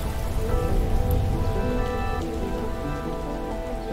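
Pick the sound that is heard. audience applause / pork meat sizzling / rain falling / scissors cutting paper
rain falling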